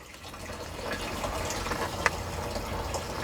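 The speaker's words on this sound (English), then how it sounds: "Pour that fuel back in there that's sitting in the bucket." Fuel being poured from a bucket back into the tank of a 2020 Shelby GT500 with a Whipple supercharger, a steady faint liquid splash and trickle with a small clink partway through, no talking.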